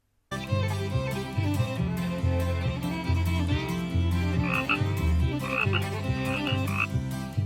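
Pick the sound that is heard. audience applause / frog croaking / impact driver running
frog croaking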